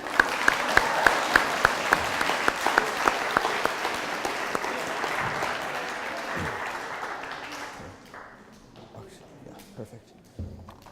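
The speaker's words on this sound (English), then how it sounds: "Let's give them a round of applause." A room full of people applauds, steady clapping with a few sharp, close claps standing out early before the ovation fades and tails off into scattered claps and quiet.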